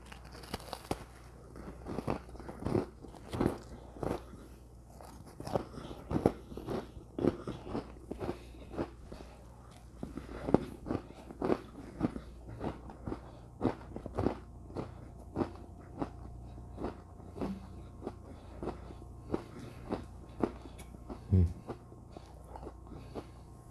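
Freeze-dried hamburger patty being bitten and chewed, a long run of sharp, close crunches in an irregular rhythm, with a brief low thump near the end.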